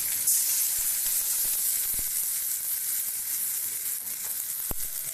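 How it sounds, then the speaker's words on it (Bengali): A splash of water hitting a hot pan of cooking greens gives a steady hissing sizzle and steam that holds fairly loud and even, with a few faint soft knocks and no voices. "একটু জল দিয়ে দিচ্ছি,"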